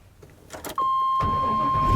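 A gas Chevy 3500 work truck cranks briefly, then catches and settles into a steady idle with a thin whine riding over the engine.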